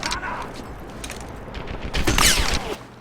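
A German MG machine gun in the Medal of Honor Airborne video game fires rapid bursts of automatic gunfire at close range, with a louder, denser volley near the end.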